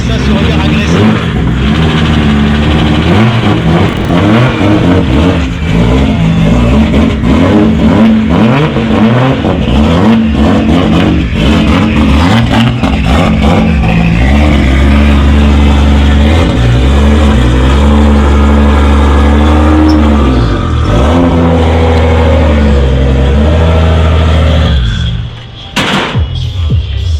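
A BMW drift car at a drift competition at the Anneau du Rhin circuit revs loudly and continuously, its engine note climbing and falling in repeated surges before cutting off briefly near the end.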